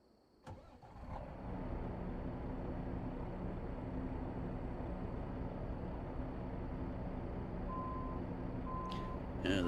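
Truck in American Truck Simulator backing up, with an engine idling steadily underneath and a few evenly spaced reversing beeps near the end.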